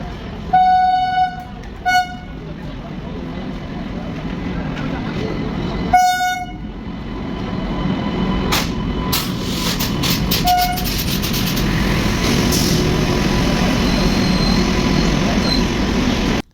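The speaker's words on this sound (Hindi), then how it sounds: "हमारी ट्रेन भी बस आने वाली है, हम इंतजार कर रहे हैं।" Passenger train pulling into a station in India, with several loud horn blasts at the start followed by a rising, continuous rumble and clatter of wheels on rails as it draws near and passes close by.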